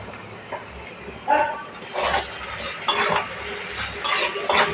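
A spoon stirs onions in a pot with faint sizzling underneath, as salt goes in for a thin chicken curry with potato and papaya; scraping strokes come in short, close bursts at an uneven rhythm.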